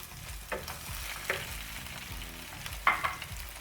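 Oil sizzles and crackles steadily as vegetables fry on a medium flame for a tomato gravy base, a close, continuous hiss with a few soft clinks of stirring.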